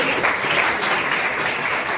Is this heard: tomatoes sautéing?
no